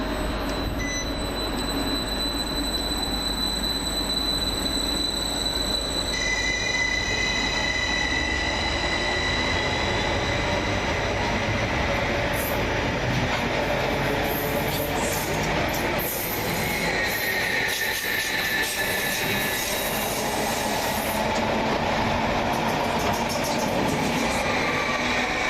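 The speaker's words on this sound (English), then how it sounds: "going in the opposite direction is 745101 with the 1522 Greater Anglia Stansted Express service from London Liverpool Street" Greater Anglia Stansted Express train 745101 passes through Tottenham Hale station, a loud continuous roar of wheels and rail noise with squealing tones and rattling carriages throughout.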